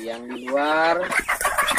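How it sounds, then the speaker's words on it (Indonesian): Free-range village chickens cluck and squawk during a morning feeding, close and busy, with a person speaking briefly among the birds. "Pagi ini kita kasih makan ayam ya."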